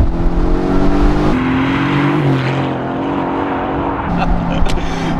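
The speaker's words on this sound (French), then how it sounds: "À peine on effleure l'accélérateur que la voiture décolle" A Mercedes-AMG GT C accelerates hard, its loud engine note climbing through rising gears with a shift midway and a brief drop before pulling again, close and dominant throughout.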